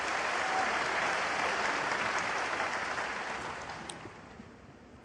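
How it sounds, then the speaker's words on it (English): A snooker crowd at the 2024 Shanghai Masters breaks into warm, sustained applause after a shot, loud at first and slowly fading over several seconds, with no commentary over it. "The crowd enjoyed that one."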